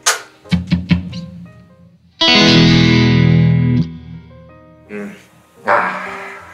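An electric guitar, an ESP, Edwards or GrassRoots model, plays through effects: several quick plucked notes, a sustained ringing chord with a chorus-like shimmer, then a few more struck chords, with no voices.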